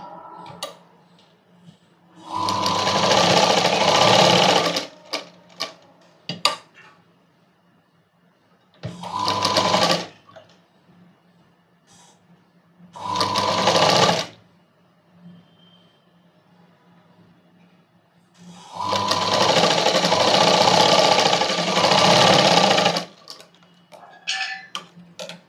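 Sewing machine stitching blouse lining pieces together in several loud, fast bursts of rapid whirring clatter, separated by quiet pauses with faint ticks and handling.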